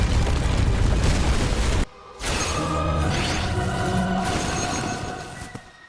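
A village being blown up in the animated series Tangled: The Series, a loud broad booming blast with a sharp cut to near silence, then a sustained roaring rumble and debris that slowly fades.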